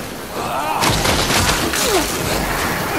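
Rapid gunfire in the game Nosgoth forms a dense, continuous rattle of shots. It mixes with a busy combat din and other game effects throughout.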